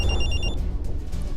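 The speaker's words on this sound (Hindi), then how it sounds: "तभी मेरा फोन बजा" A phone rings with a bright electronic trill for about half a second, then cuts off, leaving a low room rumble.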